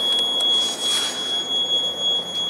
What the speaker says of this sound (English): the annoying beeping noise it's making is purely just because I've got the back door open